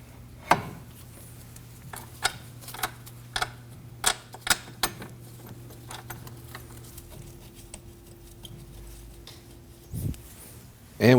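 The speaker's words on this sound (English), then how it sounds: "And get our caliper bracket bolts started in." Caliper bracket bolts on a 2003-2006 Subaru Baja are started into the knuckle: sharp metallic clicks and taps at irregular intervals over a low steady hum, close and fairly quiet.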